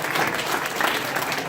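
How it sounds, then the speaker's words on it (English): An audience claps for a congressman at a St. Patrick's Month Kegs and Eggs event. The applause is a dense, steady patter that fills the whole moment, with no speech over it. "So let's give him a round of applause."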